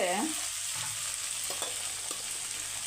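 Small cut potatoes fry in a pan while being mixed, giving an even, close sizzle with faint spoon scrapes and a brief tonal sound right at the start.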